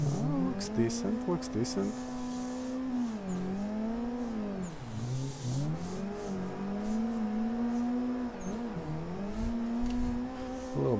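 A car engine revs and swoops through rising and falling pitch while drifting, with tire squeal and a short spoken remark partway through.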